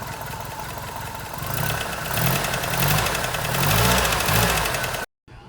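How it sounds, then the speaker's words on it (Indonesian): A car engine runs on its first day after a new timing belt was fitted, a steady, rough mechanical rumble with rhythmic knocking pulses that swells slightly before cutting off abruptly near the end, with no speech. "Ini adalah bunyi enjin hari pertama dipasang."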